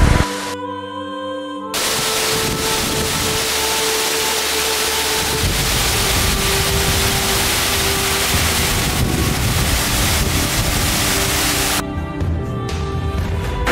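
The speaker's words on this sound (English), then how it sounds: "observe how small I am in front of this mighty waterfall" Mighty Aapkhol waterfall in Odisha makes a loud, constant broadband rush of falling water, with wind buffeting the microphone and brief quieter gaps near the start and end.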